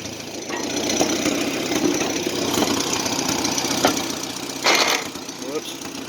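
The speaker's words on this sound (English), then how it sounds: "just to prove y'all, it will pull its third gear" A Farmall C tractor engine labors steadily while pulling an Oliver plow in third gear through a field, a continuous mid-pitched drone with a few brief louder bursts near the end.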